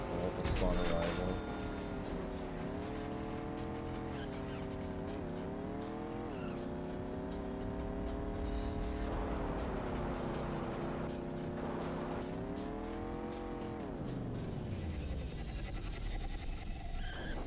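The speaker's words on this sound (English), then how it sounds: "It's still like really impressive how he makes the fucking car sounds." Synthesized race car engine sounds from the San Francisco Rush video game, a continuous loud whine that rises and falls with gear changes, with tire squeals mixed in.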